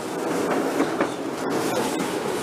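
A Northern class 150 diesel train rides the rails between Preston and Blackpool North, giving a steady rumbling interior roar with soft rhythmic clickety-clack of wheels over rail joints and a brief sharp clunk partway through.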